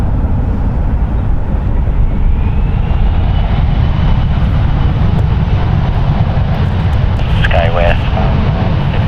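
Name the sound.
Embraer airliner taking off from runway 1 right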